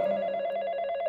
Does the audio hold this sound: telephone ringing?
yes